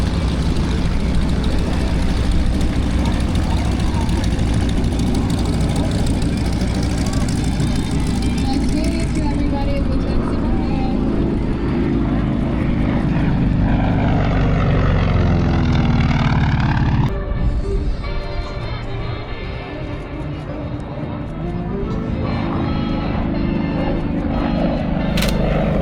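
A propeller warbird airplane at the Warbirds Over Monroe airshow drones with a loud, continuous low rumble that swells and shifts as it flies, while someone talks over it.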